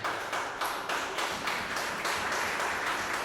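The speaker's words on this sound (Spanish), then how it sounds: "Denle un fuerte aplauso al Señor" Church congregation applauding loudly during an Easter Week sermon, a dense, steady wash of many hands clapping together throughout, with no talk over it.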